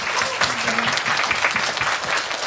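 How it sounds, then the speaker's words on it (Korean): Applause from a church young adults' service congregation thanking the special performers: steady, dense clapping from many hands, loud and close throughout, without a break. "우리 오늘 특별 순서 담당해 주신 분들께 우리 다시 한번 우리 감사의 박수 한번 올려주십시오"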